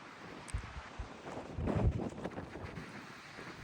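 Strong night wind gusts through a swaying tree, a rough, buffeting roar against the microphone that swells to a heavier gust midway and then eases back.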